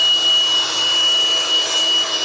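A MekiPow cordless duster running with its blower attachment, a loud, steady high-pitched motor whine with rushing air, heard up close and alone.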